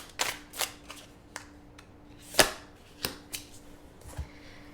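Tarot cards being shuffled by hand, a series of soft riffling and slapping bursts at irregular intervals, close and fairly quiet, with no talking.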